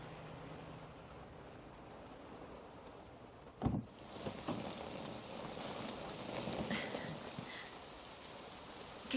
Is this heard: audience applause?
no